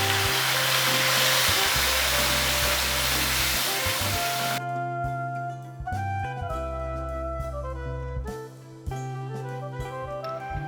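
Onion, ginger and garlic paste hitting hot oil, a loud broad sizzle roaring for the first four seconds, then fading under steady music.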